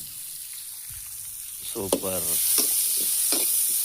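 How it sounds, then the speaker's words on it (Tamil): Onion sautéing in a pan produces a steady low sizzle throughout, close by, while a voice speaks briefly over it midway. "வெங்காயம் நல்லா ஃபுல்லாக வதங்கட்டும்"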